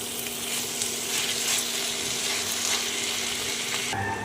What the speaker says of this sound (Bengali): মটন কিমা খুব ভালো করে কষিয়ে নিতে হবে